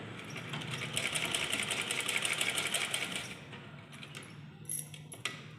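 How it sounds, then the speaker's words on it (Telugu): A sewing machine runs a steady, fast stitching whir along drawn lines for a few seconds, then stops, followed by a few light mechanical clicks and handling sounds, close and without talk. "ఇప్పుడు ఈ గీతల మీదే కుట్టండి"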